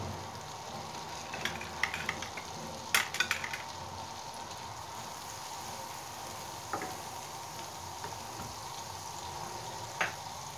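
Butter melts in a pan for a quick white-sauce pasta, giving a steady soft sizzle with a few faint clinks of a utensil.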